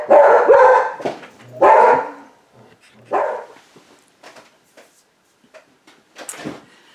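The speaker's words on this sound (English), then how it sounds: "Hopefully the dogs won't bark because Henry's asleep." Dogs in a house bark loudly at the arrival of a window cleaner, three strong bursts close by, then fainter yips and scuffling as the barking dies away.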